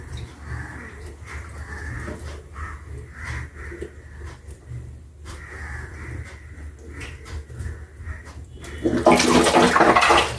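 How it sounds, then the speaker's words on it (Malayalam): Raw chicken is washed under running tap water, with a steady close trickle and splash that swells into a louder gushing rush near the end. "ഇതിൻ്റെ അകത്തൊക്കെ വെള്ളമൊക്കെ അഴിച്ച് നല്ലതായിട്ടൊന്ന് കഴുകുക."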